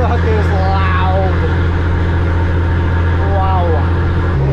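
A loud, fully loaded farm truck drives along a road, its heavy engine droning steadily throughout while someone talks over it in the cab.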